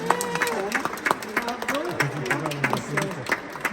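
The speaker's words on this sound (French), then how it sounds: "Et on peut l'applaudir." A church congregation claps after a baptism on the eve of the Assumption, scattered applause under a voice that keeps talking over it, moderately loud with uneven bursts.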